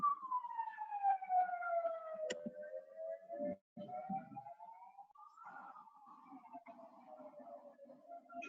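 An ambulance siren wails outside a hospital, its rising and falling tone sliding past and fading at moderate distance, with little else around it.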